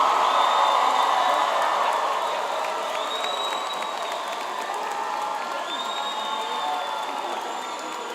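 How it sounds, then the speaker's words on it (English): A large crowd at a high school graduation applauds the class of 2016 with cheering and whistles, the ovation loudest at the start and then settling into steady clapping that carries on to the end. "Let's give another round of applause to the class of"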